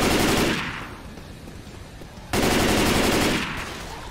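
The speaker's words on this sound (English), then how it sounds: "I may just switch over to the gun for this one." Gun firing in the zombie shooter game Left 4 Dead 2, two loud bursts of rapid automatic fire separated by a quieter gap, with no talking.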